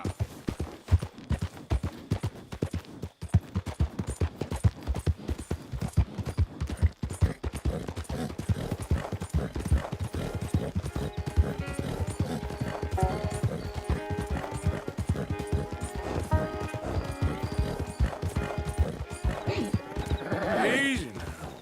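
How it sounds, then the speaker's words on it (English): Horse hooves clip-clop steadily and close by in Red Dead Redemption 2, the rhythm continuing throughout over a low background, with a whinnying neigh rising near the end. "That's a strong-looking horse."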